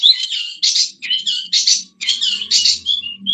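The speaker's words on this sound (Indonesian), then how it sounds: "Suara burungnya mantap" Birds chirp and squawk close by in rapid, bright bursts separated by short pauses, with a faint low hum beneath them.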